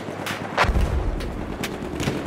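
Machine gun fire during a battle in the Spanish-language game CEOL, heard as several sharp bursts spread across the clip over steady battle noise, fairly close and loud.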